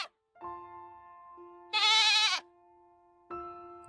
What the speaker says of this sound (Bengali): ছাগলটা ঘরের ভেতরে অনবরত ডেকে চলেছে